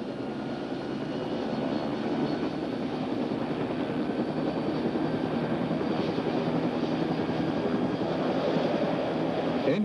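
An OH-58A Kiowa helicopter's turbine runs steadily as the throttle is slowly advanced to full, a continuous broad roar and whine that holds loud and even throughout.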